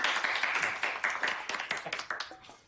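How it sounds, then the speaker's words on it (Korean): A small group claps steadily and rhythmically at close range to welcome a new startup colleague. The brisk, even claps continue without pause for the whole moment. "자, 박수!"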